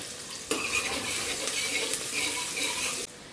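Garlic, curry leaves and onion fry in a pan with a dense, steady sizzle, stirred now and then with a utensil, loud and close for about three seconds.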